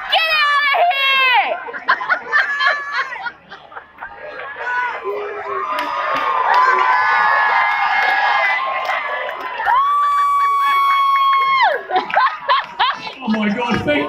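A festival crowd at the Broadbeach Country Music Festival cheers, screams and whoops for comedians on stage, loud sustained shouting with high-pitched yells rising and falling and a surge of cheering near the middle.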